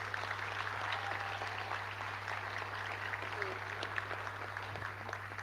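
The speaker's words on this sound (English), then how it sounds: "So give yourselves a round of applause" Graduates and their supporters applaud at a university graduation ceremony for health and social care professions, a faint, steady patter of clapping from a distant hall crowd over a constant low hum.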